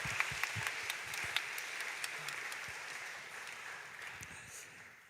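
A church congregation applauds the orchestra team after worship, a sustained dense round of clapping from many people, steady and close before tapering slightly at the end.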